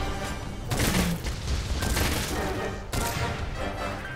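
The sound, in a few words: gunfire in the video game Monster Hunter World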